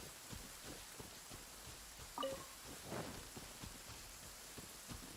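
Steady rain patters in Genshin Impact, a dense soft hiss with scattered drop taps and a couple of brighter clinks, quiet and continuous throughout.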